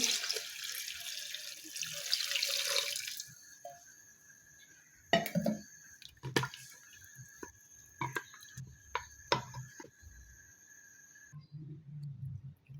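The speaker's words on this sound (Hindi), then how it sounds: "अब हम इसमें 3 गिलास पानी शामिल करेंगे।" Water gushes for a few seconds into a metal cooking pot holding potatoes and peas, then a series of clanks and knocks from the pot follow, with quiet gaps between them.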